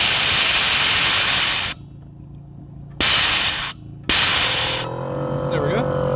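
Pressure relief valve pulled on an air compressor tank in a workshop, releasing loud bursts of hissing air that cut off and restart, with a lower hum and faint background noise between the bursts.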